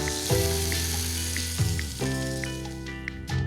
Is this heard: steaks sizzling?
yes